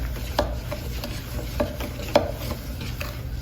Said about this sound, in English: so you don't have to watch me stir it the whole time